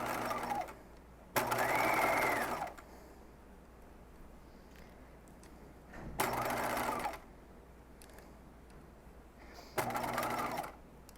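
A sewing machine stitches a dress seam at a 2.5 mm stitch length, running in three separate bursts of steady mechanical whirring, each a second or so long, with quiet pauses between.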